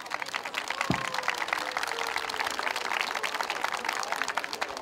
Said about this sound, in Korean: 여러분 큰 박수 보내시기 바랍니다.